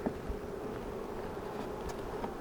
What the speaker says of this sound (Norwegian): da får jeg mer bier opp på den siden